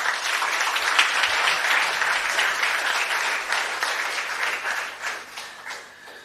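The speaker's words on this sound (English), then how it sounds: "Big round of applause." Steady applause from an audience at a school science laboratory inauguration, with many hands clapping densely for about six seconds before thinning toward the end.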